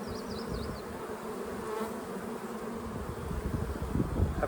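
Honeybees buzz steadily in an open hive brood nest packed with larvae, a dense close hum with no talk over it throughout.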